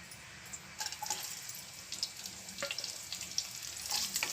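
Sliced onion and green chili frying in hot oil in a pan, a soft continuous sizzle with light clinks and stirring sounds at close range.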